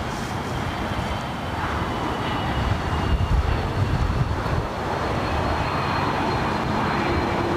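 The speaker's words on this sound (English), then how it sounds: "Next takeoff there on the north side." A jet taking off from the north side runways at LAX, a loud sustained engine roar rising and swelling through the middle, heard from a distance with no voices.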